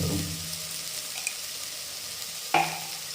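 Onions frying in a pan for Kerala-style mutton curry, a steady soft sizzle running throughout, with a couple of brief clinks of a utensil against the pan near the end.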